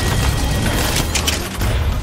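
Weapon fire in the mobile battle royale game Apex Legends Mobile, a dense, loud stream of booming shots and mechanical clatter running steadily with barely any pause.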